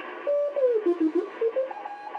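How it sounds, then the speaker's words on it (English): Morse code (CW) comes through a Hammarlund HQ 170 ham radio receiver as a wavering tone that switches on and off over a steady hiss of static. "that is Morse code for 73"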